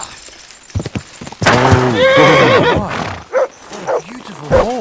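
A horse in the medieval role-playing game Kingdom Come: Deliverance 2 gives a loud, wavering whinny lasting a couple of seconds, followed by a few short snorts and brief game dialogue.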